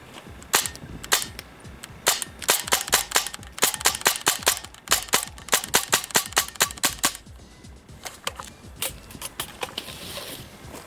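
A TGR2 airsoft rifle fires a long series of sharp, snappy cracks, single shots at first, then quick steady runs of rapid shots, close and crisp, easing into a few scattered shots near the end.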